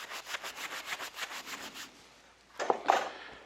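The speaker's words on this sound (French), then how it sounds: "plus on va dans des abrasifs fins, plus il faut les nettoyer régulièrement, parce que là, c'est à peine une minute de ponçage" Fine abrasive rubbing back and forth over a carved wooden handle, a steady run of rhythmic sanding strokes that stops, followed by a couple of louder knocks or taps near the end.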